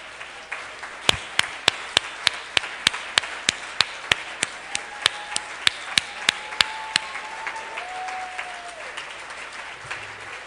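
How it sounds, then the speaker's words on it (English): Slow, evenly spaced claps ring out at an awards evening for Jewish schools as finalists stand, single sharp hand claps repeating steadily over a quiet room, with faint tones drifting in the background. "give them a wonderful round of applause"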